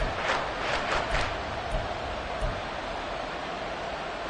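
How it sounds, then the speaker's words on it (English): Crowd noise at a Miami Dolphins football stadium on a 3rd-down play, a steady broad roar with a few rising cheers and whistles, sounding distant and continuous. "this crowd doing their best to make a lot of racket"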